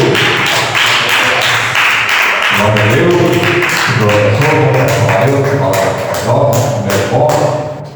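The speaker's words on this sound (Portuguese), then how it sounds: "Receba o nosso pastor com as palmas para o Senhor Jesus." A church congregation claps in worship, loud, fast, rhythmic claps that keep going while a voice sings or speaks over them throughout.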